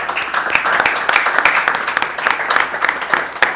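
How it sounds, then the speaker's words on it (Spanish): An audience at a live talk show applauds, dense steady clapping from many hands that fills the whole stretch without pause. "Yo voy a pedir un aplauso para los dos."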